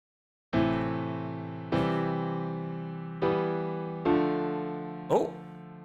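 A slow minor-key chord progression on a sustained keyboard-like instrument, four rich chords struck in turn with ringing decays, heard alone and close, ending in a short vocal exclamation.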